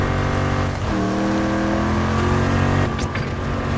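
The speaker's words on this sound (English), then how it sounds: "A little tank race." Tank engines in Battlefield 2042 drone and rev at close range as the vehicles race, a sustained heavy motor tone that shifts pitch partway through, with a brief higher squeal near the end and no talking.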